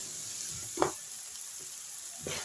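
Tomatoes sautéing and being stirred in a pan, a soft continuous sizzle with a sharp spoon scrape near the start and a few lighter stirring sounds, no talk.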